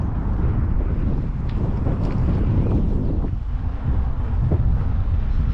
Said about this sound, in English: That wind's picking up as well, starting to blow me about a bit.